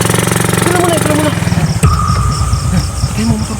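A motorcycle engine idles with a rough, buzzing putter for about two seconds, then a sharp click cuts it off, leaving quieter night ambience with faint insect-like chirps.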